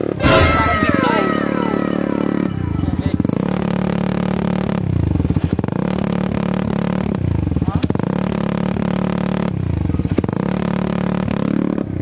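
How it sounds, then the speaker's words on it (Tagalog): A Suzuki Raider Fi motorcycle with its silencer removed and a carbon pipe fitted revs hard, loud and close, in repeated rising and falling blips with a deep, throaty tone. "Pakinggan naman natin ang tunog ng GP2. Pag walang silencer, ha?"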